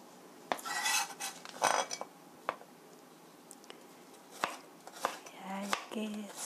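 A knife cuts thin slices from garlic cloves on a board, producing sharp, scattered taps and clicks at an uneven pace, close and moderately loud.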